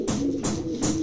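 A pair of Bukhara pigeons coo in short, close, repeated phrases, a steady low throaty call that returns roughly every few tenths of a second with no talk over it.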